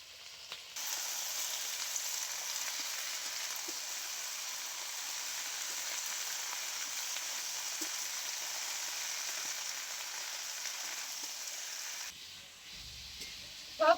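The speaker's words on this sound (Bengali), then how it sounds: "এবারে আমি দিয়ে দিচ্ছি সবজিগুলো।" Vegetables hit hot oil in a pan and set off a steady, bright sizzle of frying that starts abruptly and carries on evenly for several seconds before cutting out, close and alone without talk.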